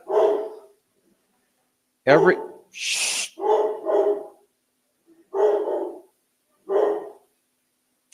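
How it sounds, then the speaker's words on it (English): A dog barks in several sharp, loud bursts close by, spaced with short gaps, while a person briefly hushes it. "Something's upset the dog."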